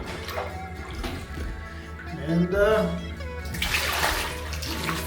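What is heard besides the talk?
flushing a toilet Thai style by pouring water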